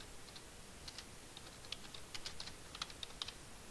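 Computer keyboard typing in quick, irregular bursts of light clicks, fairly faint against a steady background hiss, with no one speaking.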